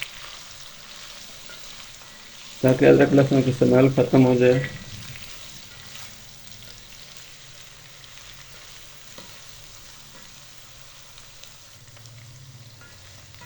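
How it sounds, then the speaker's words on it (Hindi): Chicken frying in ginger garlic paste in a pan for a degi-style chicken korma gives a loud, bubbling sizzle for about two seconds, then fades to a faint background hiss while someone talks. "और अब इस पेस्ट में मज़ीद 2 से 3 मिनट तक चिकन को फ्राई करेंगे"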